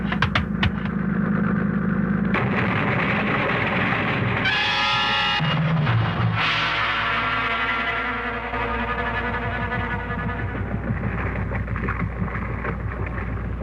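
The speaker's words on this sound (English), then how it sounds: "Mr. Thurston, that boat, it's getting pretty close." A motorboat engine drones steadily and close, with rumbling and splashing sounds layered over it throughout.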